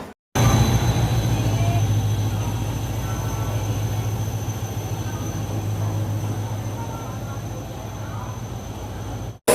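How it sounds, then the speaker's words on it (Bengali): A passenger train pulls in at a station platform with a steady, loud rumble and rhythmic wheel clatter that lasts throughout, and voices can be heard faintly beneath it. "ফাইনালি ভাই ট্রেনটা আসলো"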